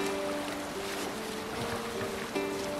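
A sailing ship glides over water in the video game Assassin's Creed Valhalla, with soft wind and washing waves forming a quiet, steady backdrop and faint tonal music lines drifting underneath.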